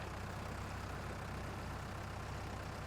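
A tractor engine in Farming Simulator 22, a low, steady droning rumble that holds constant at a quiet level with no change in pitch.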